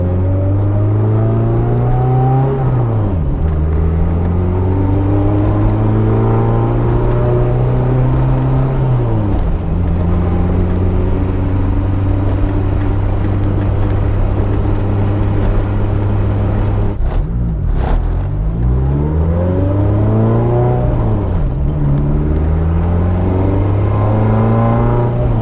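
A turbocharged all-wheel-drive Eagle Talon drives on a street, its engine droning steadily and loudly while it repeatedly revs up through the gears, pitch climbing and dropping at each shift, with no talking.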